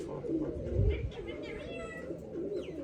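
Pigeons kept in a village coop coo softly after being given grain, a few low throaty calls near the start over faint background noise.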